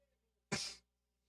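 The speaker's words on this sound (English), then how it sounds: "I just about sneezed there." A single short suppressed sneeze, one abrupt burst lasting about a third of a second, close to the microphone, with quiet around it.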